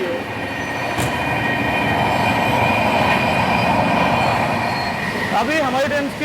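The Mumbai–Ahmedabad Double Decker Express runs at speed on a rough stretch, with a loud steady rumble and clatter from inside the swaying coach and a rising wheel squeal near the end.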